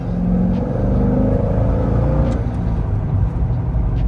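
A Chevrolet C6 Corvette Grand Sport's LS V8 engine hums close by, its pitch shifting as the revs change with a downshift partway through, then carrying on smoothly.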